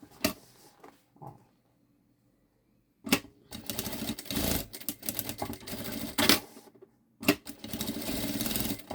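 A sewing machine stitches synthetic panels for a backpack in bursts. A few quiet clicks come first, then a pause, then rapid rattling runs of stitching close by, separated by short stops.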